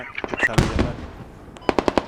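Bursts of automatic gunfire crack out in the Squad military shooter game, a rapid string of sharp shots early and another quick volley near the end, with voices talking over them.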